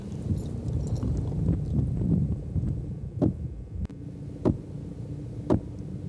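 Sharp, hollow knocks ring out from a hammer striking a wooden utility pole, three distinct blows spaced about a second apart over a steady outdoor rumble of wind and distant traffic.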